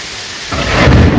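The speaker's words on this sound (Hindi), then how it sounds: "बाप रे बहुत तेज बिजली कड़ गई यहाँ पर।" Thunder crashes during a hailstorm at a Himalayan temple in Uttarakhand, starting as a low rumble and swelling into a loud, close roll halfway through the short burst, with no one talking.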